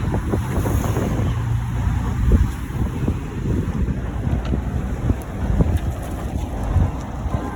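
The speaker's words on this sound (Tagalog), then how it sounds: "Iba yung simoy ng hangin." Steady wind rushing and buffeting the microphone outdoors, with a low rumble and faint water or surf sounds underneath.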